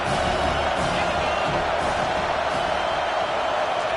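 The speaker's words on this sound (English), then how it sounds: "how nice is it to have the home crowd going absolutely bananas?" Home crowd in College Football 25 roars steadily as a dense, continuous wall of cheering throughout, loud and sustained without pause.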